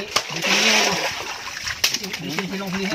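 Strong-flowing water splashes and gurgles close by during fishing for mudfish, under constant talk from people standing nearby.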